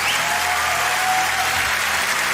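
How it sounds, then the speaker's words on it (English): Dense, steady crowd applause rolls on without a break, loud and close, with no voices standing out. "Average person applause"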